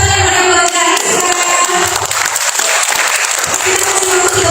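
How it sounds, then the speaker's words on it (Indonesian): An audience at a job fair interview-tips workshop in Magelang applauds, giving steady, dense clapping mixed with crowd noise and a few cheers that holds for the whole stretch. "Iya, kita kasih tepuk tangan buat Kak Rizka."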